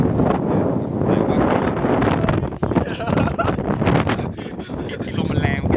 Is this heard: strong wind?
yes